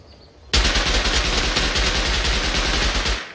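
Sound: gunfire from Rust video game

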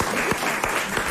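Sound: applause

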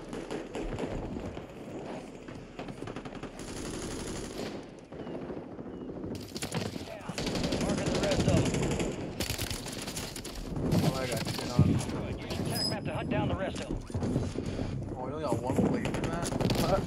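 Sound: gunfire in the video game Warzone

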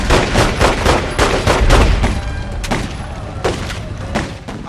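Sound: gunfire shootout in The Godfather 2 video game

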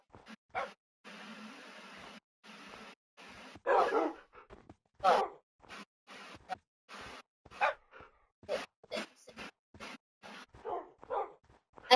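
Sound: dogs barking

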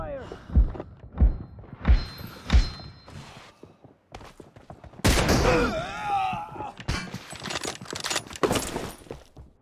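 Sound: gunshots in the video game PUBG Mobile

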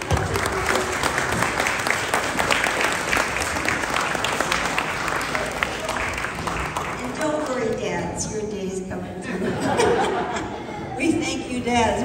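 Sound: audience applause for the choir as they sit

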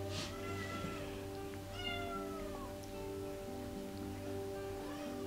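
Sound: kittens meowing for food

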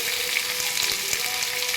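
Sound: vegetables frying in a pan

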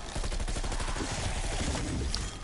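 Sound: SMG gunfire in a video game

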